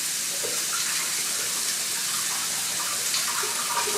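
A kitchen tap runs steadily as produce is rinsed under it, a close, even hiss of flowing water with faint splashes and no talking.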